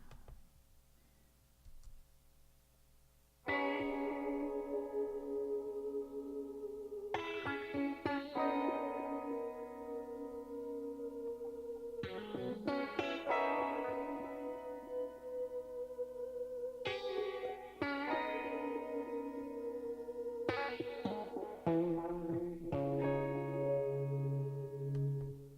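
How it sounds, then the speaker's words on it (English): Soloed guitar track from a multi-track studio session, heard alone as loud, sustained effected chords that ring out and change every few seconds, with a quieter picked intro before the full strums. "So now let me solo that guitar track again"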